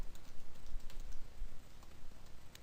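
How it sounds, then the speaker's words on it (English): Steady, light tapping of keys on a computer keyboard as text is typed into a Word 2007 table cell, a quick run of soft clicks over faint background hiss. "And I'll press Tab and type Level 3."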